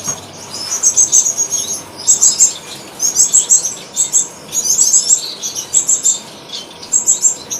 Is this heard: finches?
yes